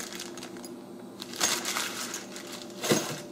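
Small hardware knobs in a plastic bag rattle and crinkle as the bag is picked up and handled while a spindle sander is unboxed, in a few soft bursts nearby.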